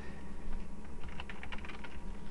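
Steady key clatter on a computer keyboard while entering Java code in the Eclipse editor, a quick run of close, light clicks with a dense burst in the middle, no talking.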